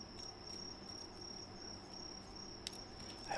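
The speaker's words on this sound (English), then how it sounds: "I hope you don't mind the crickets outside." Crickets chirp outdoors on a cool night, a steady high-pitched trill running unbroken at moderate distance, with a faint tap or two near the end.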